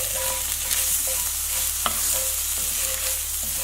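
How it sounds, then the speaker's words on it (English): Garlic and ginger sizzling in a pan as they are stirred: a steady hiss with light scrapes and clinks of a cooking spoon, heard close with no speech. "In goes the garlic and the ginger."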